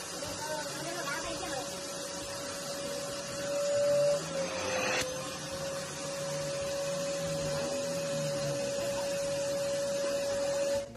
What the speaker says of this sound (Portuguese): ver tudo isso se acumular no aspirador é uma beleza